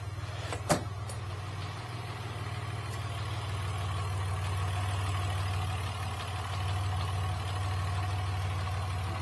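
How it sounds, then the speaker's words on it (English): A car engine idles with a steady low hum and faint ticking of injector clicks, a rattly clutch, and one sharp click near the start. "Here is injector click and a rattly clutch."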